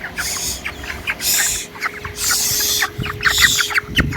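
Broiler chickens crowded in a hot poultry shed during heat stress, giving repeated close clucks and squawks in bursts with a steady mechanical hum underneath and no talk.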